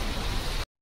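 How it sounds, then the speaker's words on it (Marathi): Steady rain pouring down outdoors during a monsoon downpour, a continuous dense hiss close to the microphone that fills the whole short stretch and cuts off abruptly. "दाखवते तुम्हाला किती पाऊस पडतोय."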